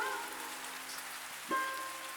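Steady rain falls outside a house, a continuous even hiss of drops on surfaces, moderately faint and unbroken, with a brief low thump near the middle.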